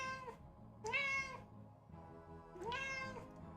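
A cat gives two clear, drawn-out meows, close and distinct, separated by a short pause over a quiet background.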